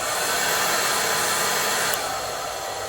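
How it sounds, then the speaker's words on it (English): A hair dryer set on low blows with a steady, loud airy whoosh, running continuously close up with a slight drop in level near the end. "The hair dryer is quite strong."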